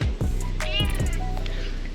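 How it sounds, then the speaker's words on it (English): A friendly stray cat meows close by, a few short rising-and-falling calls over steady outdoor background noise. "Oh, it's very friendly for a stray cat."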